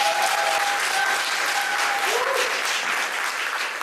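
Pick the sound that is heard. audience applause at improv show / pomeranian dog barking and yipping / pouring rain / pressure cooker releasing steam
audience applause at improv show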